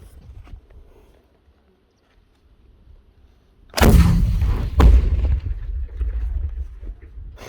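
An AT4 anti-tank weapon fires outdoors with a sudden, very loud, close blast, quickly followed by a second sharp crack and a long rolling rumble that slowly fades.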